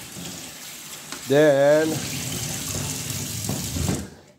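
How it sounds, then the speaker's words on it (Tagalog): Tap water running into a sink as sea mantis shrimp are rinsed, a steady close splashing hiss for several seconds while a voice briefly speaks. "Buhusan mo lang siya sa gripo."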